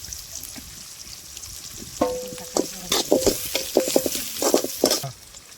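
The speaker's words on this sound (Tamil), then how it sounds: "வெங்காயம் நல்லா வதங்கிருச்சு தக்காளி போட்டுக்கிறோம்" Chopped onions and green chillies sauté in a pan in a mud-hut kitchen: a soft sizzle under a quick run of scraping stirs and clinks of the spatula against the pan, loud and close, with no voices.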